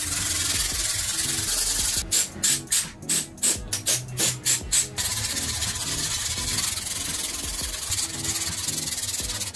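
Sanding filler primer on hand-built Iron Man suit parts with 600-grit paper, a close, continuous scratchy rubbing hiss broken by a run of about ten quick back-and-forth strokes in the middle.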